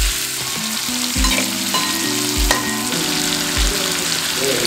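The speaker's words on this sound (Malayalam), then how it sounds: "അപ്പോൾ ചിക്കൻ ഫ്രൈ ആയിട്ടുണ്ട്." Chicken pieces frying for a biryani, a steady loud sizzle with stirring clatter and occasional low thumps from the pan throughout, no voices.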